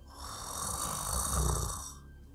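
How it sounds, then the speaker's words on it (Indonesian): One long, raspy snore rises and fades, heard up close with no talking. "Mereka ngedenger kayak suara dengkuran gitu, kayak"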